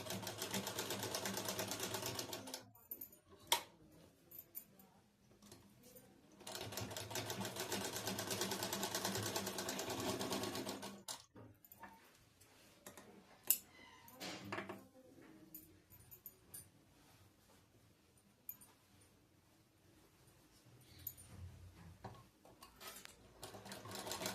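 A sewing machine runs in long, steady bursts as it stitches fabric with a half-inch margin, its motor whirring continuously for several seconds, stopping, then starting again, with brief clicks and pauses between runs.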